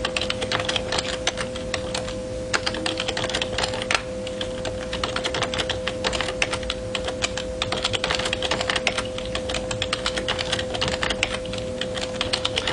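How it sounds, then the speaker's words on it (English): Rapid continuous typing on a computer keyboard, dense irregular key clicks close to the microphone with a faint steady hum beneath, no talking. "I'm good at typing, so you can stop me anytime, but I don't mind typing this all the day"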